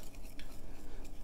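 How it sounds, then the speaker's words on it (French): Sugar and cinnamon being mixed together in a bowl for apple strudel, heard as a steady soft stirring and scraping with a few light clinks, close and continuous, with no talking. "On va venir mélanger le sucre avec la cannelle,"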